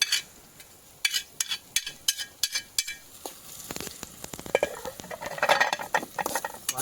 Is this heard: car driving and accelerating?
no